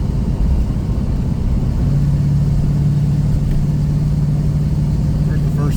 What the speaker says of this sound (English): You can hear more air leaks now.